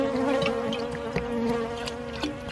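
Close, steady buzzing of many honeybees droning in layered tones around a hive, with a few individual bees passing nearer.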